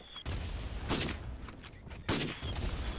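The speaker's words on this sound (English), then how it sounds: "All those explosions are real close to me right now." Gunfire and explosions in a World War I video game. Dense rattling shots mix with several loud, close booms in a continuous battle din, with no talk.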